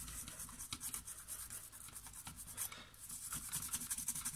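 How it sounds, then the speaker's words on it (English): Rapid bristly scrubbing with a wet toothbrush and isopropyl alcohol on a Nespresso machine circuit board, close and steady, with short rhythmic strokes rasping against a hard surface. "clean it with some wet toothbrush."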